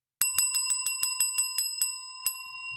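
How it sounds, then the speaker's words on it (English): A bell sound effect rings on a live podcast recording as a rapid series of about ten bright, metallic dings like a bicycle bell, close and clear with no talk over it. "I gave you a bell, Albert"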